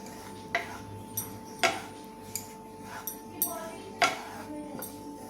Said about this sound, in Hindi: पैन में हम डालेंगे घी। घी मेल्ट हो चुका है, इसमें बेसन डाल देंगे, रख के और इसे बेसन को भून लेंगे।